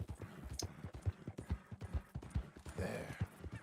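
A horse's hooves clip-clop at a steady walking rhythm in Red Dead Redemption 2, the fairly quick, even beats faint and distant, with a brief soft vocal sound near the end.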